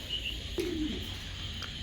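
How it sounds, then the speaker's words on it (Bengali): A pair of fancy giraffe-necked pigeons, one giving a single low soft coo near the middle, with a faint thin chirp before it against a quiet background. "দর্শক দেখেন এখানে এক পেয়ার ফেন্সি কবুতর দিলাম"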